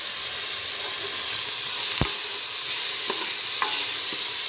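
Onion, garlic and tomato sizzle steadily in a frying pan for a Filipino chicken dish, a continuous loud hiss with a few soft clinks of stirring.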